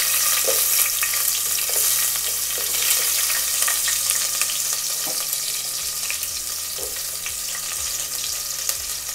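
Onions and chillies sizzling in hot oil, a loud continuous hiss up close with intermittent scraping and stirring knocks from a spoon against the pan.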